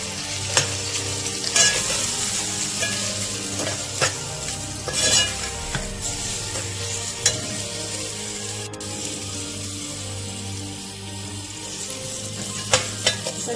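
Peas with garam masala and green chillies frying and being stirred in a pan for tehri, a steady loud sizzle with repeated scraping clinks of a spoon against the pan, close up and without talk.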